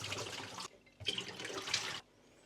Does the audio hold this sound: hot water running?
yes